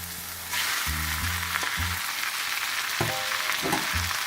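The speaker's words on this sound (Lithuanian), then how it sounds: "Mano garnyras jau apkepė, todėl aš suversiu perlines kruopas." Pearl barley tipped into a frying pan of browned mushrooms and vegetables, a sudden rise into a steady close sizzle, with low tonal clinks and scrapes of stirring scattered through.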